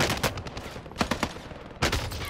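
Rapid bursts of gunfire in the battle royale game Caldera, several sharp loud volleys of shots spread across the moment, clustered near the start, middle and end, with no talk over them.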